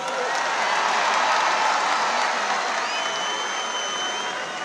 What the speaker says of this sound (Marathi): सलमान भाईचं स्वागत करायचं जोरात टाळ्या वाजवून